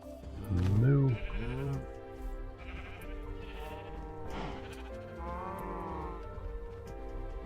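Animal calls in Minecraft, a loud cow moo followed by bleating sheep, several wavering cries over about seven seconds with some soft background sound.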